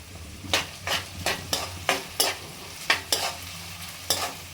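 Chopped capsicum, tomato and green chilli sauté in oil, a soft sizzle broken by about a dozen rhythmic scraping strokes of a spoon stirring the pan, close up and without speech.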